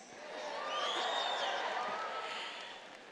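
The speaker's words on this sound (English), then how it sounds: "This crowd was so much louder and more energized than 9 a.m." Large commencement crowd cheering and applauding, a broad sustained wash of claps and whoops with a few higher shouts, swelling and then fading slightly over a few seconds.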